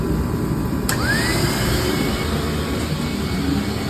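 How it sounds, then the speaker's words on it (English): A livestock blower roars steadily and loudly while drying a washed show calf's hair, a continuous whooshing hum with a brief click and faint rising whine near the start. "I'm going to use just one blower"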